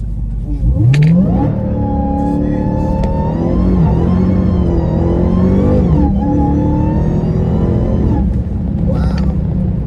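Dodge Charger Hellcat accelerating hard from a stop with its wheels spinning, a loud sustained engine roar rising and holding for several seconds, with a brief voice over the top.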